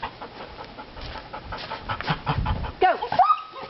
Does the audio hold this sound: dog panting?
yes